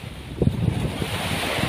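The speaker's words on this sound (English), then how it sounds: "sometimes enjoy the waves, breaking waves" Waves break and wash around a moving sailing boat at sea, a constant rushing surge with wind buffeting the microphone and no voices.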